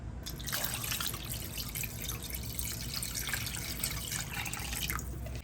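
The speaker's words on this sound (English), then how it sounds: "So fill this entire pan up with water." Water running steadily from a tap into a saucepan, a continuous splashing trickle with no voices.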